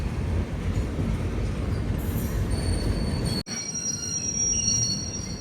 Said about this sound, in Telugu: మన ట్రైన్ అండ్ ఆ గూడ్స్ అయితే ప్యారలల్గా పోతున్నాయి ముందుకి